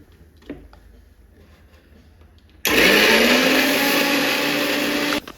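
A kitchen mixer grinder whirs loudly as it blends washed coriander leaves with a little water into a paste, starting abruptly after a quiet stretch with faint clinks and running steadily at full power until it stops.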